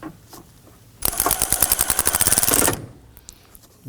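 Bolt on the coolant reservoir of a 2018-2024 Toyota Camry 2.5L four-cylinder being snugged down with a ratchet, a close, rapid run of clicks lasting under two seconds between quiet moments.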